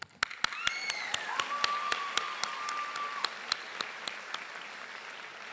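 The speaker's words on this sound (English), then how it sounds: "One more clap." Applause at a high school graduation ceremony, with sharp separate claps standing out in a fairly steady beat over a soft crowd wash, plus a faint rising whistle-like tone partway through.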